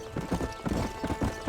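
A horse gallops in Red Dead Redemption 2, rapid heavy hoofbeats pounding close and loud in a driving rhythm, with a brief whinny and no talk.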